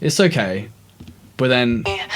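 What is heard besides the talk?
No everyday noises stand out.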